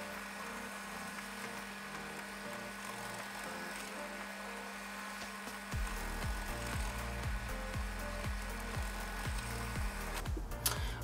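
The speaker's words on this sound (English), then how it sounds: "now it's time to pre-drill some holes in the plywood bases." A power drill whirs continuously, then bites into plywood in a series of short bursts, each pulse rising and dropping in pitch as holes are pre-drilled.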